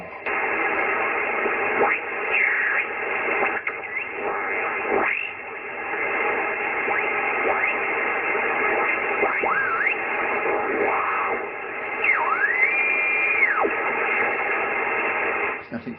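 Band noise from an Icom IC-7300 transceiver tuned to the 40 m band, a continuous hiss of static with sweeping whistles and warbling tones drifting in and out, steady and fairly loud, with no clear speech.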